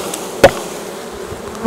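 Honeybees of a colony at an apiary in Saint-Cyr-sur-Mer hum steadily in the background, with two louder buzzes as a bee passes close by, near the start and again at the end.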